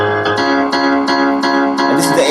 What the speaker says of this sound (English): For this one, I did reverb automation and low cut automation.